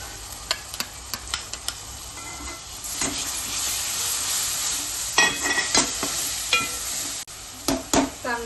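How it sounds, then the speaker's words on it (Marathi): Garlic and tomato paste sizzle in a hot pan for a Palak Paneer base, with a steady frying hiss and several sharp scraping strokes from stirring, the hiss dropping out briefly near the end. "आला लसूण आणि टॅमॅटोची पेस्ट केली त्याच्यामध्ये"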